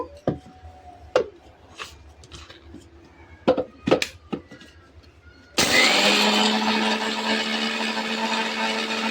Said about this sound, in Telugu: ఇప్పుడు మిరపకాయలు అవన్నీ మనం మిక్సీ పట్టేసుకుందాము.